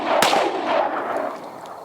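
A Springfield Armory Hellcat Pro pistol with an RDP slide fires 90-grain +P rounds outdoors, one sharp loud report near the start followed by rolling echo and a couple of softer cracks.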